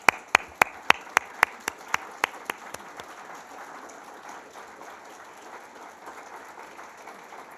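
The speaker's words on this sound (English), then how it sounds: "I wonder if the board could stand up and we can give a little round of applause." A small group at an annual general meeting claps for the board, with a dozen sharp, evenly spaced claps from one close person over soft scattered clapping, all fading out after about three seconds.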